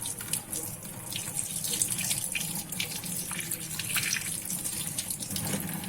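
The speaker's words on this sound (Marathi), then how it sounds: "बारीक धार केली म्हणजे जास्त पाणी वेस्टेज जाणार नाही।" A kitchen tap runs in a thin, steady stream as small fish are rinsed one by one, a continuous close hiss of water with light splashes and no speech.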